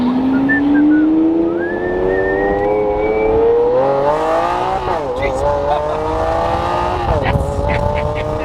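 A Lamborghini Aventador accelerates hard through a tunnel, its engine note climbing steadily in pitch through the gears, loud and reverberant, with excited voices shouting over it.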